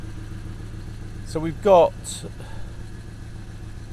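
A 2018 Porsche Cayman 718 GTS with PDK and sports exhaust idles, giving a steady low engine hum under a man's brief speech.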